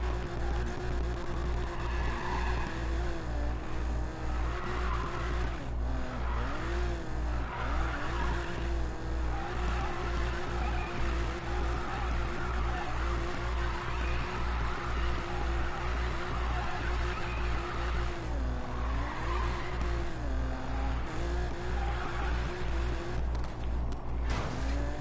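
A race car in a PS4 racing game, driven in manual transmission, holds a steady droning engine note with repeated tire squeals and skids throughout, loud and continuous, with the pitch shifting as it shifts gears.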